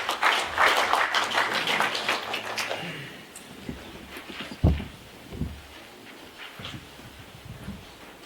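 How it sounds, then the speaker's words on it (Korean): Loud applause from a seminar audience on Jeju culture, dense clapping for about three seconds that fades out, followed by scattered thumps and quiet room noise. "큰 박수로 맞이해 주십시오."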